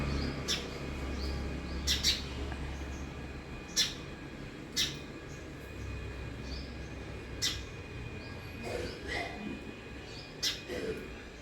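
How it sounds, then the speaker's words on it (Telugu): Birds chirp in short scattered calls outdoors in the early morning near a household worship setting, fairly faint against a steady low background hum, with no talking. "పక్షులు రావడం మొదలైంది"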